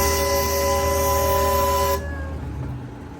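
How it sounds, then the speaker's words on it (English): A zoo train's whistle blows in one sustained, loud chord-like tone for about two seconds, then cuts off, leaving the quieter rumble of the moving train. "Once I get to this portion of the train ride, I like to blow my whistle"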